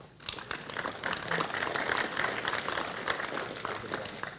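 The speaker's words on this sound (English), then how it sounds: "So give yourselves a nice round of applause." Applause from an audience at a JavaScript programming talk, a moderately quiet, steady crackle of many hands clapping that rises and holds for several seconds.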